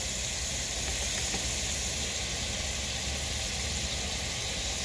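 Native chicken sautés in a pan with a loud, constant sizzle and hiss that holds steady for several seconds, with no talking over it.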